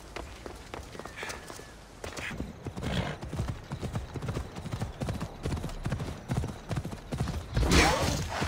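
A horse walking on hard ground in the video game Assassin's Creed Odyssey, steady clip-clop hoofbeats with a whinny near the end, heard close over background game ambience.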